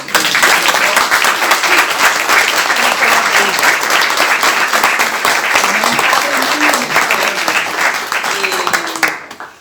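A lecture audience gives sustained applause, dense and loud from start to finish before cutting off abruptly at the end.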